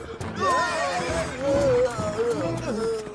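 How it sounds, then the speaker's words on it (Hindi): A cartoon horse gives a long wavering whinny with a faint clip-clop, loud and close, while a voice speaks over it. "अरे हमारे घोड़े। हॉर्सी।"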